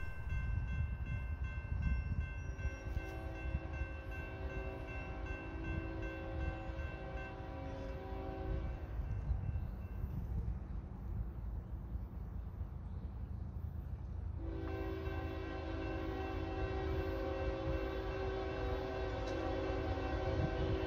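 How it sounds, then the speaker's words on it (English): Train Q515 rumbles steadily past near Parkwood Junction in Pelham while its horn sounds in long sustained blasts, pausing briefly midway before blaring again, loud and close throughout. "here be that train that was sitting at Parkwood Junction for a bit."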